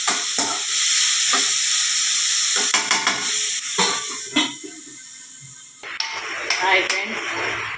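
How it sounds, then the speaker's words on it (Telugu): Chopped ivy gourd (donda kaya) fries in a pan with a steady hiss and sizzle, broken by occasional stirring scrapes and clanks of the spoon against the pan. "బాగా వేగింది దొండకాయ ఫ్రై"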